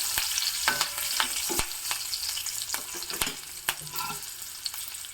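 Curry leaves and two whole green chillies fry in hot oil for a traditional Brahmin-style rice dish, crackling and sizzling close by with sharp spattering pops throughout. No one speaks.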